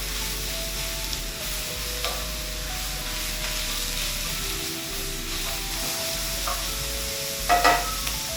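Thinly sliced beef sizzles and fries steadily in a hot pan for a Korean-style Philly cheese steak, with occasional stirring clinks and a louder scrape near the end, no talking.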